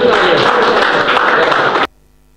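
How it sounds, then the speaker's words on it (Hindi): Loud, dense applause from a mushaira poetry gathering audience welcoming a poet, steady clapping that stops abruptly near the end. "भरपूर तालियां।"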